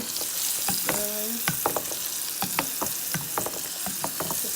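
Curry for a Jamaican split pea dal fries in a pot over really high heat, a steady close sizzle broken by repeated scrapes and knocks of a stirring spoon, with no talking.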